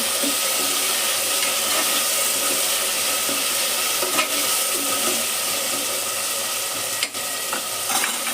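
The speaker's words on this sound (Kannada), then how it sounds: "ಟೊಮೆಟೊ ಹಾಕಬೇಕು ಆಮೇಲೆ ಫ್ರೈ ಮಾಡಬೇಕು ಚೆನ್ನಾಗಿ" Tomatoes frying in a pan for kara pongal, a steady broadband hiss of sizzling that continues throughout with faint stirring scrapes and no voices.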